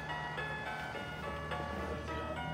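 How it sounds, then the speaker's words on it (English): A 2009 VTech alphabet apple toy plays the electronic melody of Polly Put the Kettle On, with bright, tinny tones in a steady tune, faint and close with no talking. "this song is called Polly Put the Kettle On."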